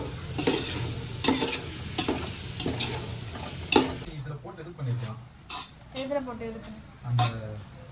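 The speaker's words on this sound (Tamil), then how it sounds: "வதக்குங்க ஜி வதக்குங்க நீங்கள் தான் நல்லா வதக்குவீங்களே" Onions and tomatoes are sautéed in a pan for mutton biryani: a spoon scrapes and clinks against the metal in quick strokes over an oily sizzle, while voices talk through the later part.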